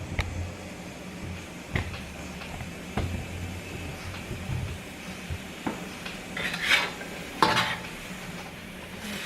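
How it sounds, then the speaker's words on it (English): A spatula stirs food in a pan over high heat, giving intermittent scrapes and clinks against the metal above a faint low sizzle, with no talking. "Stir it a little bit."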